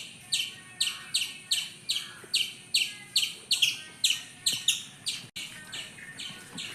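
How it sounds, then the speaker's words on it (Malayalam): Birds chirp in quick, bright bursts repeating about twice a second, fairly close and clear over a quiet background. "അവിടെ കിളികൾ ഉണ്ട്"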